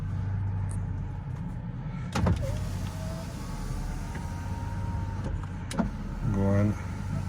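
The driver's power window on a 1997 Mercedes-Benz E420 W210 runs down and up, a low motor whir with clunks at each end of travel, heard close inside the car over a steady idle hum.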